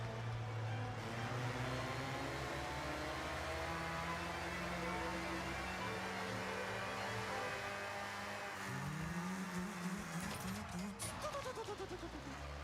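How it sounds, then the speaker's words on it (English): A loud car engine from the Forza Horizon video game drones steadily and shifts pitch as it revs, with a swell near the end, under a voice talking. "Why is this car really loud?"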